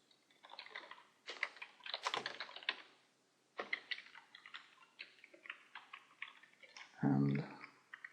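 Computer keyboard typing while writing code for an Android music streaming app: bursts of quick, close key clicks with short pauses between runs, and one heavier thump near the end.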